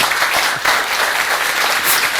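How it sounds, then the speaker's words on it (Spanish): Steady, dense audience applause fills the whole stretch, a loud continuous clatter of many hands clapping indoors at an event about concrete floors. "creo que merezco un aplauso."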